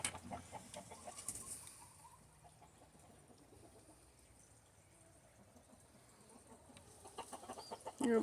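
Hens clucking in a backyard chicken coop where water bubbles out of the ground, scattered soft clucks and calls at close range, busier at the start and end with a quieter stretch between.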